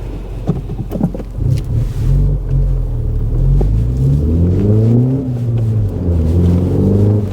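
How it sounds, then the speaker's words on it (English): A loud, deep exhaust rumble from a 2021 Mini Cooper S with the muffler removed idles and then revs, its throaty drone rising and falling steadily up close with no voices. "Exhaust sounds spot on."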